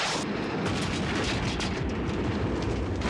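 A movie explosion as a van is hit: a dense, rumbling blast with continuous crackling debris and roaring fire, loud and sustained throughout.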